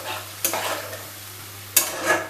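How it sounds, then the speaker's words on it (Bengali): Spice paste sautéed in a pan with a little water, a soft sizzle broken by two sharp spoon scrapes against the pan. "মশলাটা একটু কষানো হোক"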